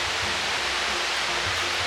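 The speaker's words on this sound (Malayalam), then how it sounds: "ഈ ഒരു സൗണ്ട് വേറെ ലെവലാണ്. എന്ത് ശക്തിയിലാണ് ഒഴുകുന്ന ഒച്ചയാക്കുന്നത്." A forest waterfall roars powerfully and without pause, a loud, dense rushing wash of falling water heard close by with no voices.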